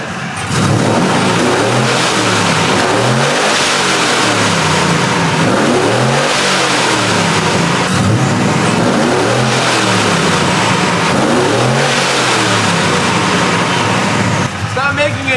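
A supercharged, intercooled truck engine revving repeatedly, each rise and fall of the engine note swelling and dropping in a steady cycle, loud and close, with a whine riding over the roar and no clear talk.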